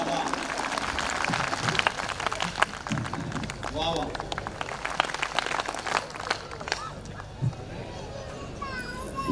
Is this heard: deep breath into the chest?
no